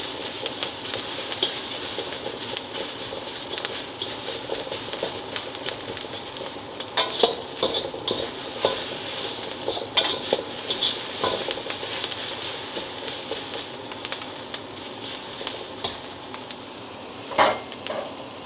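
Mixed seafood with garlic in oyster sauce stir-frying in a pan, a steady loud sizzle with a hiss of steam, punctuated by occasional scraping and tapping strokes of a utensil.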